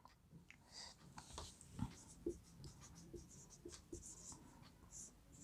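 A teacher writes on a board during a class 9 maths lesson on triangles, with scratchy strokes and taps of the writing tool. A quiet, uneven rhythm of marks and knocks runs under faint room noise.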